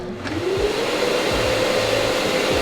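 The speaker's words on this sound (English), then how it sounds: "you hear the vacuum come on" A Festool shop vacuum connected to a saw starts up with a rising whine. It settles into a loud, steady roar that carries on to the end, with no talking.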